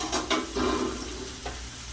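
A pot roast searing in a hot pan gives a loud, close, continuous sizzle, broken by a few sharp bursts of spatter and stirring. No one speaks.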